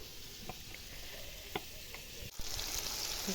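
Steady crackling sizzle of smoked lard, onion and carrot frying in a pan for bograch, with a few soft clinks of a utensil stirring; continuous and close, no voices.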